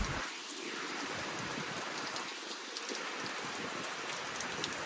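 Steady rain falls during a rainy day on a dirt trail, a dense, even hiss of drops on surfaces that continues without a break, close and fairly loud, with no voices.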